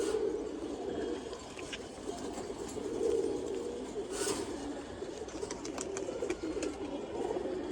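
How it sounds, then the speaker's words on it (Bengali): Soft pigeon cooing in a steady low murmur, with faint background hum and a few brief higher chirps; no one speaks. "একটা কবুতর এটা হচ্ছে বেজি কবুতর"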